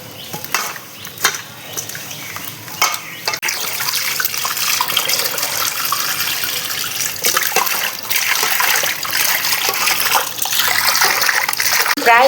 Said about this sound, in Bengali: এখন মাছগুলি নুন দিয়ে ভালো করে মেখে ধুয়ে নেব।